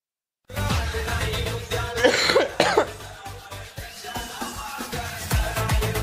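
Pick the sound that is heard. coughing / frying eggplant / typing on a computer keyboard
coughing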